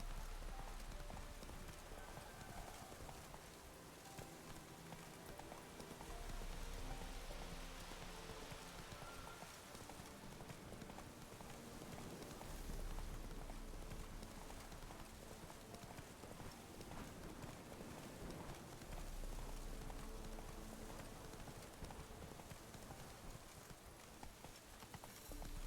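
In The Witcher 3, the horse Roach gallops through rain with a steady, fast clip-clop of hooves under continuous rainfall across the whole stretch.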